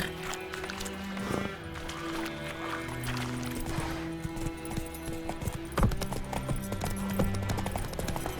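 Horse hooves galloping in The Witcher 3 make a steady, quick clip-clop under a continuous bed of game ambience and music, with a fainter snort or whinny partway through.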